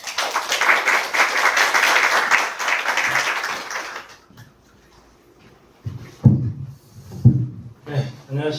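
Audience clapping at a KOITA IR demo day for companies and investors, a dense burst of applause for about four seconds that stops abruptly, followed by quiet room tone and then a man's speech.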